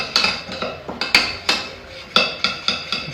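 A spoon beats a prawn curry masala mixture of dhania powder and chili powder in a bowl, making sharp, close, rhythmic clinks and taps repeated about every third of a second.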